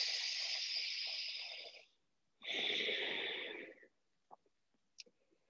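Two slow, deep breaths are taken during a guided breathing exercise, each a long, airy, close rush lasting about two seconds, followed by faint small clicks.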